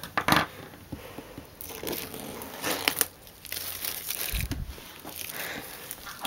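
A pocket knife slicing through iPad box packaging gives crinkling, tearing plastic and cardboard sounds in uneven bursts, close and moderately loud, with no voices.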